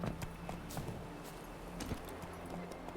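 Hooves of Geralt's horse Roach in the Witcher 3 video game clip-clop steadily at a walk, close and moderately loud over a busy ambient game background, with no talking.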